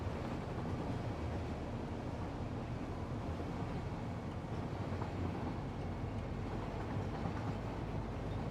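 A steady, low rumbling drone of a moving train in a video game runs without a break, broad and even, with no voices.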